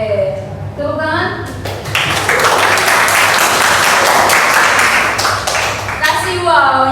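Classroom applause from students after a group presentation in an arts and culture lesson, a dense burst of clapping filling the middle seconds, with children's voices chattering before and after.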